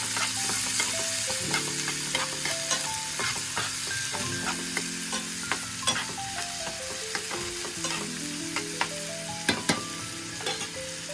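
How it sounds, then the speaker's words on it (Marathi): Chopped onion sautéing in a pan until golden, a dense continuous sizzle with light clicking stirs, playing under melodic background music. "बारीक केलेला कांदा आहे तो सुद्धा घालून घेते छान असा गोल्डन कलर येईपर्यंत आपण तो कांदा आहे तो छान असा परतून घेणार आहोत"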